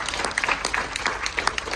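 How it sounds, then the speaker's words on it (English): Guests at a Carnival cruise ship party for diamond members applaud, a thin, somewhat distant patter of individual claps lasting under two seconds. "If we can give a big round of applause to all our diamond guests joining"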